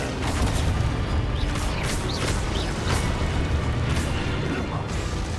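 Expulso spell explosion in the game Hogwarts Legacy, a dense, loud rumbling blast with bursting crackles sustained throughout, close and filling the whole stretch, with no talking.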